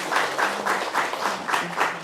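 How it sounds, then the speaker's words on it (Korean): A church congregation claps for newly welcomed members, the applause moderately loud and pulsing in a loose, steady rhythm across the short stretch, with a faint voice-like hum underneath. "새로 초대받으신 우리 자매님들, 형제님들 위해 박수를 한번 부탁드리겠습니다"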